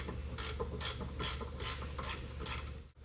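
A ratchet wrench works suspension nuts loose on a Land Rover, a fast clicking pawl heard in about six regular bursts, close and fairly quiet, with no talking.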